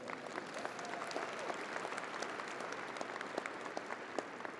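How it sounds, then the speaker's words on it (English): An audience at a winter college commencement applauds graduating candidates for associate degrees and technical diplomas, a steady, moderately distant wash of many hands clapping that continues evenly without a voice over it. "Can you give them a round of applause?"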